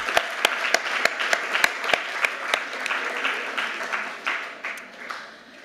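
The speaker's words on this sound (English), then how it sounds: "You do deserve a round of applause." A small crowd at a university co-op information event claps, with sharp individual claps standing out over a steady patter that thins toward the end.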